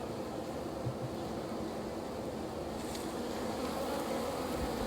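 Honeybees in a large beehive building comb, clustered and festooning, make a dense, steady buzz that fills the air at a moderate level, continuous and without voices.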